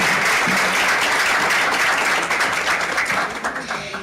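An audience at a digital media and social networks congress gives loud, sustained applause during an award presentation. The clapping is dense and close, then thins and fades slightly toward the end.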